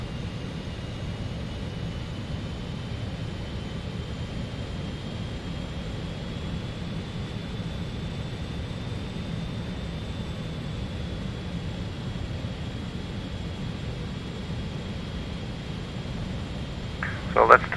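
Jet engine drone of an RJ Professional regional airliner on final approach in Microsoft Flight Simulator 2020, a steady broadband roar with a faint high whine holding evenly throughout, with a brief click near the end.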